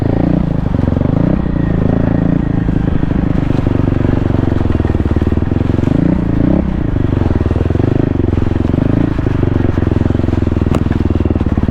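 A 2024 Kawasaki KLX300R dirt bike climbs a hill off-road, its single-cylinder engine loud and close, rising and falling in pitch as the throttle works, with clatter from the terrain.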